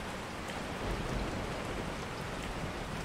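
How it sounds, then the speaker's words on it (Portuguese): Rain in the video game Resident Evil 4, a soft, even hiss of falling rain with a slightly louder swell midway, steady throughout and without voices. "tá chovendo"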